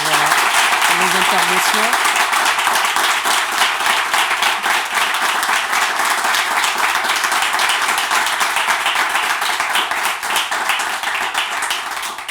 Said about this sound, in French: On vous applaudir tous pour vos